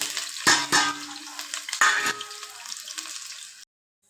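Chopped onions sizzle steadily in a hot pan on a home stove, with a few sharp clinks and scrapes of stirring before the sound cuts off abruptly.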